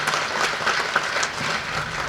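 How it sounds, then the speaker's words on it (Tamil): Audience applause fills a film audio and trailer launch hall, a dense sustained clapping from a large crowd that stays steady and loud throughout with no voices over it. "இந்த நேரத்தில் கருணா சாருக்கு நல்ல மிகப்பெரிய கரகோஷம் கொடுங்க, இந்த அரங்கமே அதிர மாதிரி கொடுங்க"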